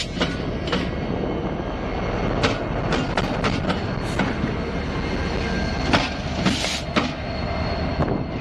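A Norfolk Southern freight train, led by locomotive 1166, rumbles past steadily and loud, with continuous wheel-on-rail roar and several sharp clanks and squeals over about eight seconds, no talking.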